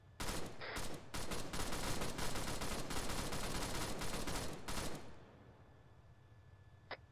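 Heavy gunfire in the ARMA 3 military game rattles in rapid, dense bursts of shots for about five seconds, then stops abruptly, leaving a quiet tail with one faint distant pop.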